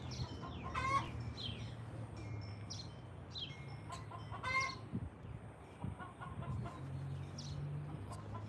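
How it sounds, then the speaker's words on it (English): A rooster crows from a distance at a pigeon race day, its calls rising at intervals over a steady low hum alongside soft clucks and other bird calls, fairly faint overall. "They hear the sound of the rooster further than they hear me whistling,"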